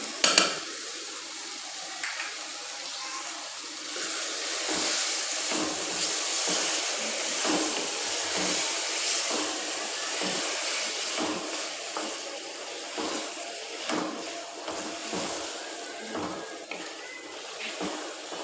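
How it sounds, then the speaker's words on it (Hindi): Chickpeas cook in a pan with yogurt for shahi chana, giving a continuous steady sizzle and hiss with occasional stirring clatter, close and moderately loud. "अब हम दही के साथ इसको अच्छे से भुनाई करेंगे इसकी"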